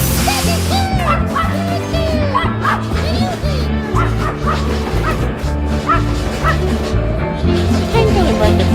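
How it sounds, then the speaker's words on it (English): A dog barks and yips repeatedly in an excited, rapid string, with whimpering between the barks, close and loud beside a Washington metro train on the way to King Street, Alexandria. "But Tank wanna bark at this train so bad"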